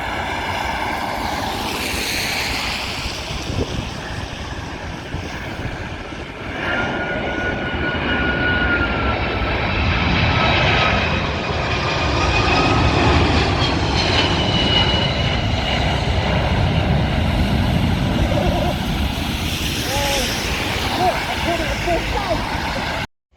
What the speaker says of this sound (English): that was a 747 coming into land